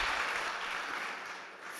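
Audience applause at a startup competition event, a brief steady burst of clapping from a crowd, moderately faint, with no voices over it.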